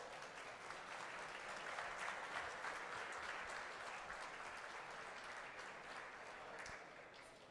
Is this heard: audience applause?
yes